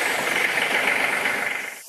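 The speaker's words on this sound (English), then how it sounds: "We're going to go ahead and fire the tractor up" Tractor with a front loader, its diesel engine running close by in a steady, loud, rattling idle that drops away just before the end; no voices.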